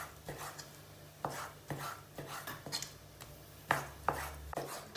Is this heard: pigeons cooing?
no